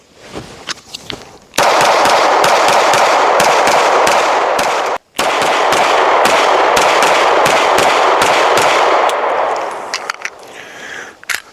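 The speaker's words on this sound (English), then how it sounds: "So let's go ahead and let off 2 more magazines." Rapid, loud shots from an M&P Shield Plus 9mm pistol fitted with a red dot sight, fired in quick succession for close to ten seconds with one brief pause between magazines.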